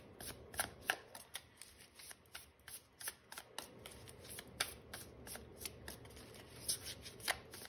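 Tarot cards rustle and shuffle close by while a card is drawn from the deck, giving a run of quick, soft flicks and snaps over a quiet room, with no speech.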